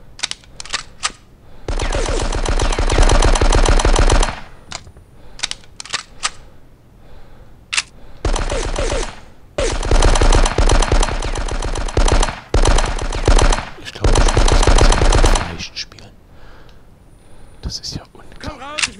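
Bursts of rapid automatic gunfire from the Die Hard video game, loud and close, in several long volleys separated by short gaps and a few single shots.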